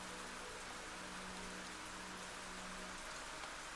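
Steady rain in a video game graveyard scene, a dense even hiss of falling drops on surfaces, constant and fairly quiet with no voices.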